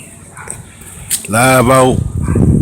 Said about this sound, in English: I hope that stupid ass dog stop barking, cause he really fucking up my video.